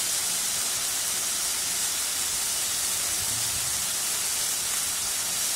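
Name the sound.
turkey berries (sundakkai) sautéing in a pan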